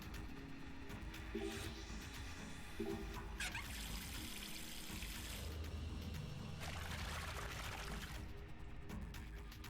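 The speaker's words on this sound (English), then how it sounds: "The valve is open, and now we have water." Water pours and trickles from an opened valve in the video game Zero Time Dilemma, a steady liquid flow layered under game ambience and a few mechanical clicks throughout.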